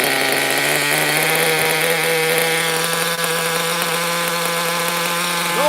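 Vintage T-Maxx RC truck with a 3.3 nitro engine running on 30% nitro fuel, a steady high-pitched buzzing whine held continuously and loud close by, with no talk.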